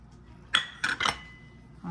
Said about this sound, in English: I put it on the plate.